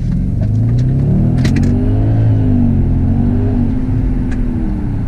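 Audi RS6 C5 accelerating hard from low speed, a loud, close engine roar climbing steadily through the revs with a deep rumbling tone, heard from inside the car.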